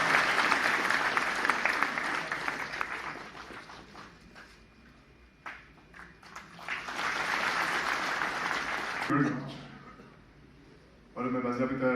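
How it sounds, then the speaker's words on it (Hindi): Hall audience at a public ceremony giving loud, dense applause that gradually thins out into near quiet, with a short spoken phrase near the end before a fresh voice begins. "All wings of the hall के सभी विंग्स से हमें तालियां चाहिए जोरदार।"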